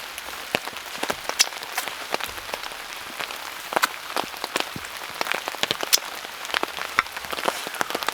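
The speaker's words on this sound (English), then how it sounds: "the rain is starting to get heavy again" Heavy rain drums on a tarp at a campsite, with dense steady patter and sharper individual drops hitting nearby, and no voices.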